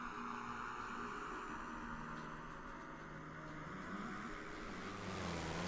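Camera drone in Microsoft Flight Simulator 2020 on a flight from Bellingham, WA to Moses Lake: a steady, quiet droning engine hum holding constant, with a slight pitch shift near the end and no talk.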